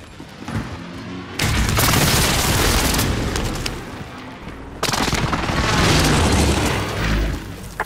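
A called-in artillery strike in a video game lands in two heavy waves of explosions, loud booming blasts layered with crackling bursts, the second barrage arriving a few seconds after the first.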